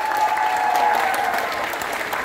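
A graduation ceremony audience applauds, with dense, continuous clapping from a large crowd filling the whole moment at strong, even loudness.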